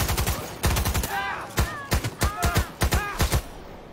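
Weapon fire in the video game Cyberpunk 2077, loud bursts of rapid gunshots in quick clusters with short gaps, mixed with bright electronic game effects.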